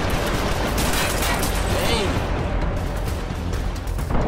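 Gunfire in a music video: dense, continuous rattling bursts mixed into loud music, with no clear pauses across the clip.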